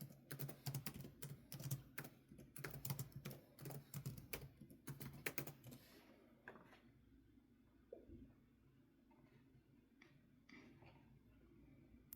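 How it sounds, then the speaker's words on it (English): Fast, uneven keystrokes on a computer keyboard, typed with one hand, clatter in quick bursts for about six seconds, then give way to a few sparse taps over a low background hum. "Typing with one hand anyways"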